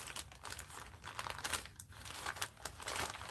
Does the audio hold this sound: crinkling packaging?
yes